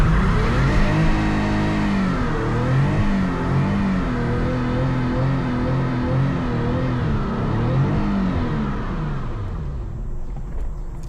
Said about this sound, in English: I'm gonna do a first gear burnout because I don't want to burn the tires too much